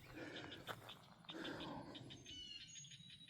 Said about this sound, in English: You hear them frogs?